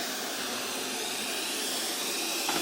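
Loud, steady whooshing roar of a vacuum cleaner sweeping the floor of a home, a continuous broadband drone held close and unbroken throughout.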